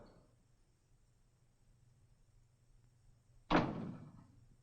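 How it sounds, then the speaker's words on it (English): A door shuts with a single sharp thunk, loud and close, after a few seconds of near silence in a Western drama scene, with a short ringing decay afterward. "Close the door."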